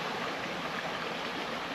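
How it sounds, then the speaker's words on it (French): Small river flowing through the centre of Celles, a steady, even rush of water with no voices, close and fairly soft throughout. "je vous remontre la petite rivière qui parcourt le centre de Celle"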